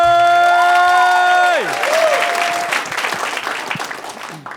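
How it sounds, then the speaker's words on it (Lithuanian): Audience applause and some cheering swell up at a live improv comedy show, following a brief sung or played tonal phrase that slides downward, then clapping continues loosely and tapers off. "Jūsų plojimai!"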